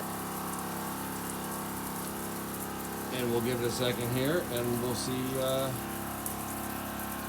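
A Joolca portable water heater shower switched on at full heat and medium water pressure, with a steady liquid rush and a pump whine that swells and wavers for a few seconds midway, while someone talks over it.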